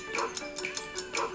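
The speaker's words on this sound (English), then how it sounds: "The dog barks every time you move his hand." Cartoon dog barking in a Scratch slapjack game, a quick series of short yips repeating about every fifth of a second over steady background tones.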